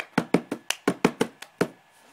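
Hands tap and clap cups in a cup song, a crisp run of about nine sharp percussive hits in a quick, slightly uneven rhythm, close and alone.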